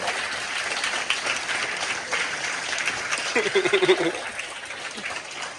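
Applause for high school sports coaches at a school recognition event fills a large room with steady, moderately distant clapping, briefly swelling near the end as a voice rises over it.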